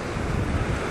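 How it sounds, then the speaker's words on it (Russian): Fierce wind blows across a stormy Black Sea beach at Vityazevo near Anapa, a brief loud roar of gusts mixed with surf. "при таком дичайшем ветре"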